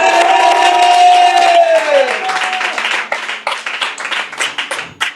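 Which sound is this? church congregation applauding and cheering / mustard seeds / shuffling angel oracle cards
church congregation applauding and cheering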